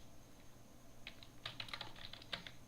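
Keys clatter on a computer keyboard during a Microsoft Word 2013 session, starting sparse and then rattling in a quick, close-up burst of taps.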